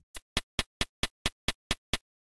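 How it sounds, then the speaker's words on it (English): An electronic hi-hat run through Eventide Crush Station lo-fi distortion strikes nine times in a steady, evenly spaced rhythm, each hit short, gritty and dulled rather than sharp, with silence between hits. "I went for a low-fi hi-hat sound instead of a very sharp,"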